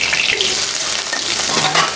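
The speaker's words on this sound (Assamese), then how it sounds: "ইয়াতে মই আকৌ কেইটুকুৰমান চয়াবিন ভাজি দিম" Soybean chunks fry in hot oil in a pan for a pointed gourd and soybean curry, a loud, steady, close sizzle with crackling that runs unbroken throughout.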